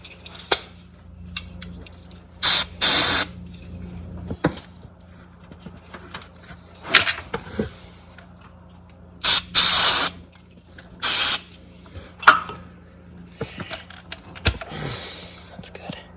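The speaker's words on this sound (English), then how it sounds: "I do have a little bit of electrical cleaner, so I'm going to spray these Deutsch connectors." Several short bursts of electrical cleaner spray onto Deutsch connectors, each about half a second, spaced apart amid quiet handling noises and faint whispery background.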